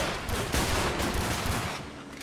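Gunfire in the Primal Carnage video game, a dense burst of rapid shots blending into a continuous crackling roar, loud and close for a couple of seconds with no talk over it.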